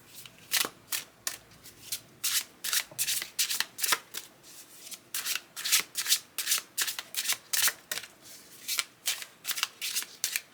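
Repeated close-up shuffling of an Aquarian Tarot deck, a steady series of crisp riffling bursts in a regular rhythm, with no talking.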